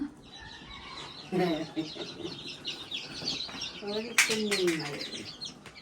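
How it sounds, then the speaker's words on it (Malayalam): Chicks cheep and a mother hen clucks close by, bright chirps scattered over a few seconds with louder peeps near the end, while a person talks. "കോഴിക്കുഞ്ഞുങ്ങൾ വരുന്നു"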